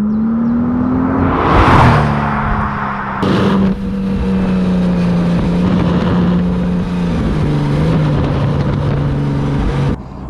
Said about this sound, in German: Und er hat einen Sound und eine Kraft, die ist wirklich beeindruckend.